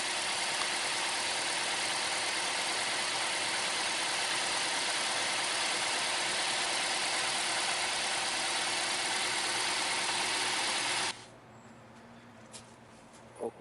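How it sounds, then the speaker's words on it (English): A car engine idles smoothly and steadily with no vibration after a spark plug and ignition coil change, its dense even hum running for about eleven seconds before cutting off into near silence with a couple of faint clicks. "now engine is running very smoothly"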